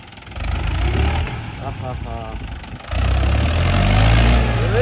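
A tractor engine idles with a low, steady rumble that grows louder partway through, with voices heard over it.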